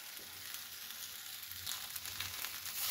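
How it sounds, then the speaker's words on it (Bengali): Mashed maan kochu (taro) being stirred and dried out in a pan, giving a faint, soft sizzle with light, irregular stirring scrapes. "দেখো এইভাবে নেড়ে নেড়ে এর মধ্যে যে জল ভাবটা থাকবে সেটাকে শুকিয়ে নেব।"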